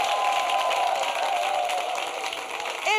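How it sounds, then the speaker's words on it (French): Applause for a woman guest on a talk show set, clapping spread across the whole stretch with a sustained tone and voices over it. "Applaudissements encore pour Madame Nel Zamila."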